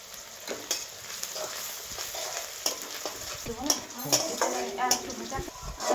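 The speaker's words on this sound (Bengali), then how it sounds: "পেঁয়াজগুলো আমি লাল লাল করে ভেজে নেব। গোটা গরম মশলা দিয়ে দেবো।" Onions fry with whole garam masala in a pan for a bottle gourd and meat curry, a steady close sizzle broken by scraping stirs and the clink of a utensil against the pan.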